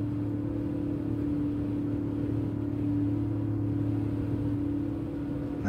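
Car engine in Gran Turismo 7 accelerating, a steady droning hum of harmonics holding nearly constant pitch as speed builds, continuous and fairly loud.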